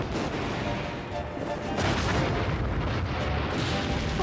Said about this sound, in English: The explosion's part of the ride.